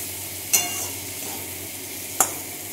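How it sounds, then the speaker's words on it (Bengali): Boiled bitter gourd frying with spices in a pan gives a soft, steady sizzle, broken by two sharp scraping clicks of a spatula stirring and cutting it. "তো এই যে একটু কষে নেবো মশলার সাথে দিয়ে, তারপরে খুন্তি দিয়ে কেটে দেবো।"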